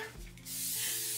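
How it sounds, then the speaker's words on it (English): Sebastian Shaper hair spray misted onto a soft body-wave wig, a close, steady aerosol hiss that starts after a brief pause and holds loud and even to the end. "I am going to spray some of my Sebastian Shaper."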